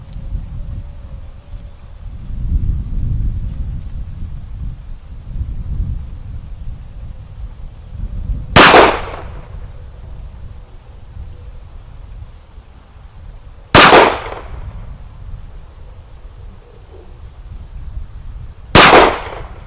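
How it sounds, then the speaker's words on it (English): Glock 43 pistol fired at a steel target outdoors: three sharp, loud shots spaced about five seconds apart, each with a quick ringing decay, over faint wind and background rumble. "let's see how the steel holds up to your assault."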